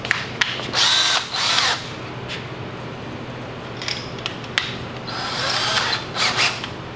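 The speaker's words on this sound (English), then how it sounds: "Drill our holes." A power drill bores holes in metal, with several high whining bursts of varying length separated by short pauses and sharp clicks, loud and close.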